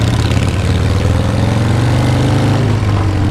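A Harley-Davidson FLH touring motorcycle with a Sportster front end idles close by, a loud, steady low engine rumble with an even pulsing throb and no voices.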